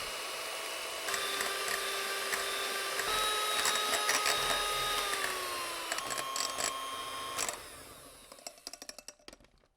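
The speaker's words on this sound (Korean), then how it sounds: "차가운 생크림을 휘핑을 해주시는데" An electric hand mixer whipping cold fresh cream whirs steadily and loudly, its motor pitch sagging slightly midway, then cuts off, followed by a few light clinks and taps.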